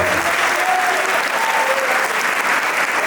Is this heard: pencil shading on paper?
no